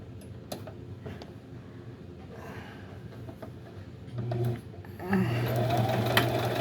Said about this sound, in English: I have to do a zigzag stitch on this outer edge here, along this outer edge here, to keep that from fraying.